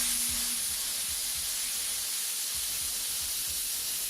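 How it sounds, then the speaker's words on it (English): Black paint hisses from an airbrush through a rivet stencil in a steady, continuous close spray, with a faint low hum underneath and a brief dip in the low rumble partway through. "what we're going to do is just spray that right in"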